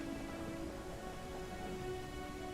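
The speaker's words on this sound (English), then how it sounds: "Oh, a thunderstorm." A rain-soaked thunderstorm in the dragon flying video game Glyde The Dragon, a steady dense hiss of rainfall with low rumbling underneath and a sustained tonal hum, constant and moderately quiet, with no voices.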